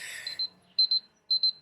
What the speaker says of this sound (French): c'est mon alarme, comme quoi je dois boire.